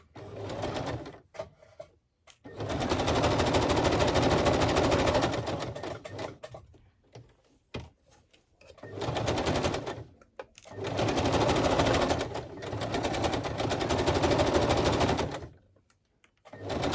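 A sewing machine stitches fabric onto a journal page in several long, steady runs of rapid mechanical chatter separated by short pauses, close and otherwise quiet.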